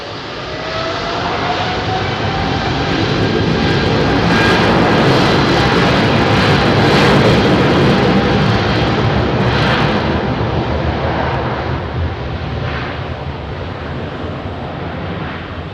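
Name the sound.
jet airliner taking off at Heathrow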